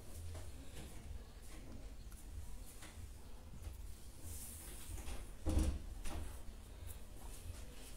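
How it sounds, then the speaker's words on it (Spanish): A door thuds shut once midway through a quiet room during an embroidery session, a brief muffled close standing out against low background noise. "¿puedes cerrar la puerta,"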